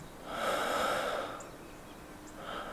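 Heavy breathing of an injured person in a road accident video game, a loud rasping breath swelling for about a second, then quieter breaths trailing on, heard alone without talk.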